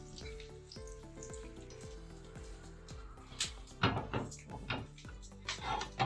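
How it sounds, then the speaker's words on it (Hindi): Potato gola kababs go into hot ghee in a frying pan and sizzle softly up close, the crackle swelling in bursts toward the end, with a few light knocks of pan and utensils alongside; no talking. "घी गर्म हो गया, अब इनको हम फ्राई करेंगे।"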